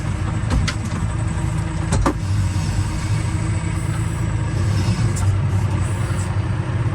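A John Deere 6R150 Command Pro tractor engine starts with a brief crank and then settles into a loud, steady, close diesel rumble.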